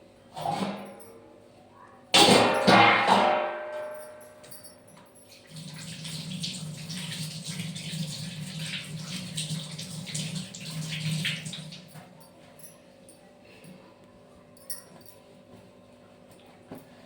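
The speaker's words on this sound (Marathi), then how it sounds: "तर आता हात धुवून टाकते पहिले" Water runs from a tap for several seconds with splashing as oily hands are rubbed beneath it, preceded by a brief clatter, then it stops.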